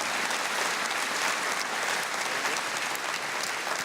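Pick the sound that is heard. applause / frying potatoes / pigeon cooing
applause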